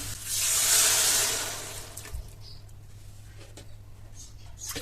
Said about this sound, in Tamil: தேவையான அளவு தண்ணி ஊற்றி